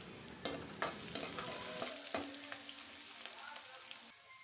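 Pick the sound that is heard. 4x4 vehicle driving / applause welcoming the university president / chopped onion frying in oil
chopped onion frying in oil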